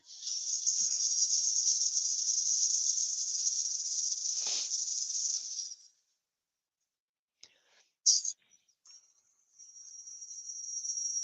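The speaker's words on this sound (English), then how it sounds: "Run the sander over that just lightly." Power sander lightly smoothing fuzz off turned wood on a lathe project, a steady close hiss that runs for several seconds, cuts out, then returns after a few brief scrapes and clicks.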